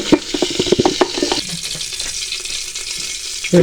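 Vermicelli is stirred in hot desi ghee in a cooking pot: a quick run of clinking spoon strokes at first, then a soft, even sizzle, and a louder scrape at the very end.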